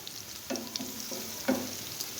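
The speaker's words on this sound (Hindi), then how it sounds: "इसको हम थोड़ा सा और भून लेंगे, थोड़ा सा मिर्चों को भी भून लेंगे और प्याज को भी हल्का सा लाइट सा पिंक कलर" Onions and chillies with cumin frying in a pan give a quiet, steady sizzle, broken by a few soft stirring scrapes and clinks.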